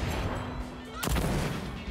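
A single sharp gunshot from a weapon in a shooter game lands midway, a loud broadband crack with a brief tail over a steady low game ambience.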